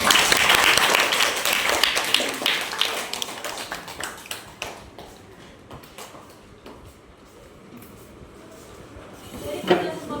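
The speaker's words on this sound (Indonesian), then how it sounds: "Boleh tepuk tangan untuk kelompok 3 sekali" Classroom applause for a student group during a vocational school practice session, loud at first, then thinning into scattered individual claps and taps that fade out, with a faint voice near the end.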